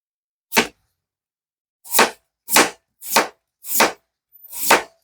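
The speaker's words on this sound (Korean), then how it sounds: "손질한 양파를 불에 담고 감자를 썰게요" A knife cuts thinly through potatoes on a board in six crisp, isolated chops, one early and then five in a fairly even rhythm after a pause, loud and close.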